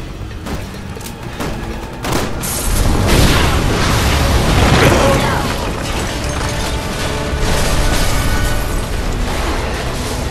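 A gas explosion in the Resident Evil 6 video game bursts loudly into a dense, roaring boom that keeps rumbling through the rest of the clip, with game sound effects layered across it.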